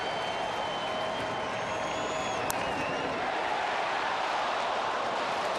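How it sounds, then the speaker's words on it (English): Baseball crowd at a Reds home game against St. Louis, a steady distant murmur of many voices with a brief sharp blip in the middle. "Little buzz in the crowd."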